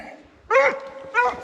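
A hunting dog barks on command, two loud, close, sharp barks a little over half a second apart, alone after a brief quiet start.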